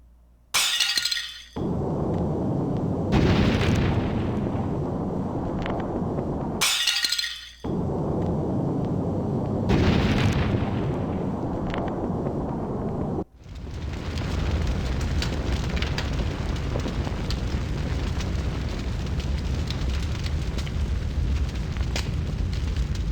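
Roaring, crackling fire bursts in Octopath Traveler 0, loud and close, flaring in several surges with shattering, breaking edges before settling into a steady wide rumble.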